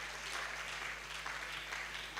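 Quiet, steady applause from an audience at a youth leadership conference as an award winner heads to the stage, a distant, even wash of clapping over a low hum.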